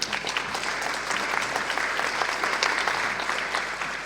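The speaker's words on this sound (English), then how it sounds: "I would have settled for good morning, but the applause was nice." Sustained applause from an audience welcoming a speaker, a dense, even wash of many hands clapping at a steady level throughout, fairly close and without pauses.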